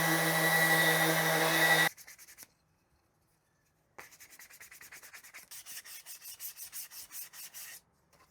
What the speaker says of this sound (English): Enough of that fun sanding.